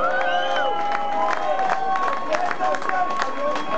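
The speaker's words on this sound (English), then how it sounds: "Give them all a round of applause, please." Festival crowd at Wizz Fest cheers and claps in a steady, lively wash, with scattered whoops and shouts rising over a continuous roar of hands throughout.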